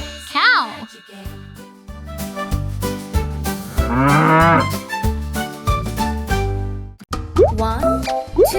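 A cartoonish cow moo sounds among playful effects and a voice, with a bouncy jingle and plopping noises around it.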